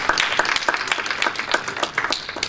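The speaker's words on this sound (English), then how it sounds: "give Brother Harold a round of applause" Brief round of audience applause for a musician at a church gathering, dense clapping from a crowd that stays steady for a couple of seconds before easing off slightly.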